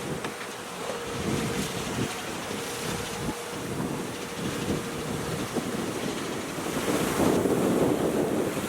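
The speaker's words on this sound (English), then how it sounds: "Massive, massive splash off the bow." Water rushes and surges against a moving sailboat's bow as it pounds into waves, under heavy wind noise, a big splash swelling near the end.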